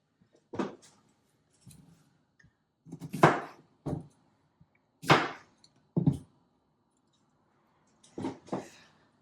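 A knife chops the ends off a peeled cucumber for a traditional Greek salad: about eight short, crisp cuts in uneven pairs, close and distinct against a quiet kitchen background.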